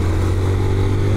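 A Honda CG 160 Fan 2024 motorcycle rides through city traffic, its steady, loud engine drone humming close by without a break for just over a second.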